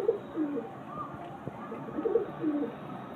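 Deep red-eyed pigeons coo nearby in soft rolling bursts that rise and fade, several calls overlapping over about three seconds against a faint background hum.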